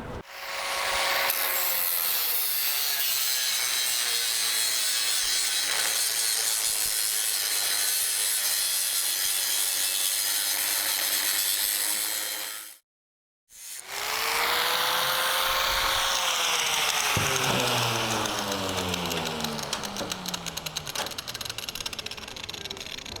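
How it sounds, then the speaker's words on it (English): Rusted metal being cut out of a Chevy or GMC truck front fender with a power tool, a loud continuous high grinding rasp that stops briefly midway and then resumes with shifting pitch, close and without talk. "I'm going to go ahead and I'm going to cut the mass of this out"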